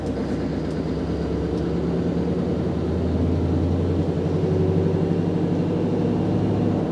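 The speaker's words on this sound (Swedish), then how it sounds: "Den låter rätt gött. Vad är det för bil det här då? En Scania R770." A 2023 Scania R770 truck idles with a deep, steady diesel rumble and low harmonic throb, close and continuous, rising slightly in loudness toward the end.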